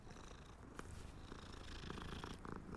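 A cat purrs close and continuously in Hogwarts Legacy, a soft rhythmic rumble with a few faint clicks on top, with no talking.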